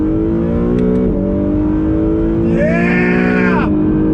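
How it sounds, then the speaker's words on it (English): An Acura NSX with a custom exhaust accelerates hard in second gear from inside the car, a loud rising engine note that climbs sharply, drops at a shift and then pulls again. "That custom exhaust sounds like a symphony."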